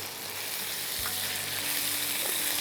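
Bottle gourd fries in a pan, a steady close hiss of sizzling oil with a soft stirring scrape partway through and no voices.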